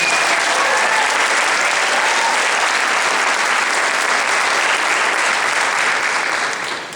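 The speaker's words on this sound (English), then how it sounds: "One more round of applause, please, for Mr." A concert audience applauds in a loud, thick, continuous round that carries on evenly and fades slightly at the very end.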